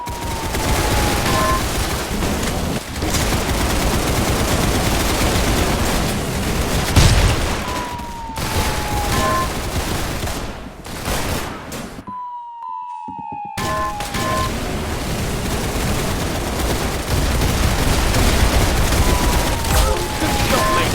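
Gunfire rattles on almost without pause, dense and loud, with sirens wailing through it and one short silent break partway through.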